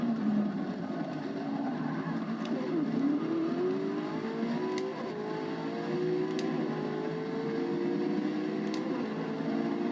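McLaren race car engine on the Spa-Francorchamps circuit in Forza Motorsport 6, a continuous droning whine rising through gears with brief shift dips, steady and fairly loud.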